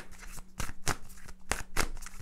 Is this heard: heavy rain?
no